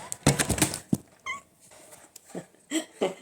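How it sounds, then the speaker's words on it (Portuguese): A cat meows in a rural spot beside piles of rice straw, giving a few short, close calls between bursts of other noise. "Essa é a gata."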